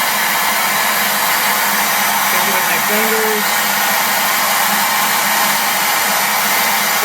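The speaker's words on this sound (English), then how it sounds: "Shut off the vacuum." A vacuum runs steadily and loudly throughout, a constant broadband whoosh, while it pulls a cable through a tube during internal cable routing for a bicycle dropper seat post; a person speaks briefly under the noise.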